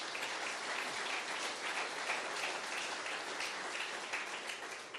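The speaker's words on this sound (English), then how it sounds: "So let's give them a round of applause." Steady audience applause at a public announcement on homelessness supports in Lethbridge, a uniform crackling wash of many hands clapping, moderately faint and continuous.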